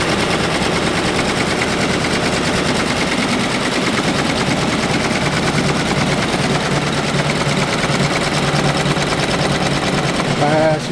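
Machine stitching running steadily in a working shop, a dense, continuous mechanical whir and rapid chatter that stays loud and close for the whole stretch with no pauses.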